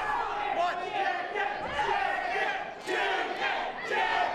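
A wrestling crowd shouts and cheers at a live show, a dense roar of voices with chanting swells and individual yells rising over it, loud and continuous with people talking nearby.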